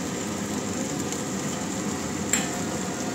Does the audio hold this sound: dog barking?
no